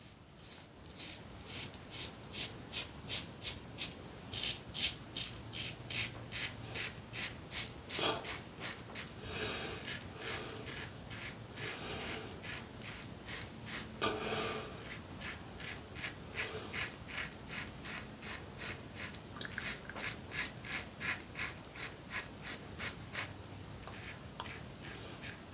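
Safety razor scraping across soap-lathered skin, a steady run of close, raspy strokes repeating in quick rhythm with brief pauses, no talking.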